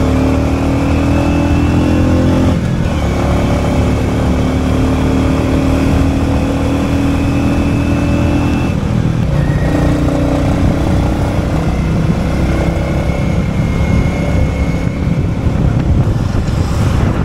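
Royal Enfield Classic 350 Bullet (BS7, E20) engine while riding on a long ride, a steady loud low thump with heavy wind rush throughout, no talk.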